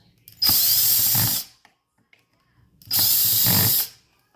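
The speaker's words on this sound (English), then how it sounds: "I'm just gonna use a power tool" A power tool drives screws while a 16-inch VEHPRO electric chainsaw is assembled, two loud whirring bursts of about a second each separated by a quiet pause, close up with no talking.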